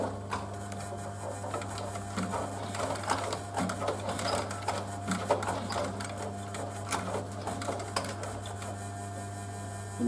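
A sewing machine stitches a canvas leather bag in a workshop, running close and loud with a steady hum under a fast, uneven chatter of needle strokes that speeds up and slows throughout.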